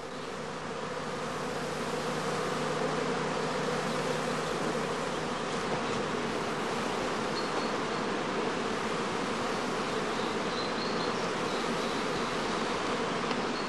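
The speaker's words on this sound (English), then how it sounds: "The experienced beekeeper can tell from their behavior at the entrance whether the bees are about to swarm." Honeybees swarm thickly at the entrance of a straw skep hive just before swarming, making a dense, continuous buzz that swells over the first couple of seconds and then holds steady and loud.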